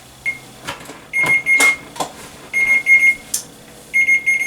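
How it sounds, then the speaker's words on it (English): A kitchen timer beeps in repeated short bursts while holiday cookies finish baking, its bright electronic tones cutting through faint kitchen clatter and movement. "that sound means that our cookies are ready to come out"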